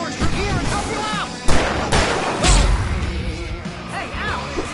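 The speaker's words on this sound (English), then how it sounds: "I can set off one of the fireworks from here and help you out!" In the video game Alan Wake, fireworks go off with several loud booming bangs and crackling bursts amid a busy battle mix, while voices shout and talk over the noise.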